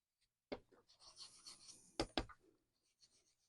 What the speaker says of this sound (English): I'm just rubbing across the tops of that emboss.